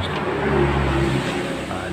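A Yamaha Jupiter Z1 motorcycle engine idling close by and rising slightly under light throttle, a steady low drone with someone talking over it.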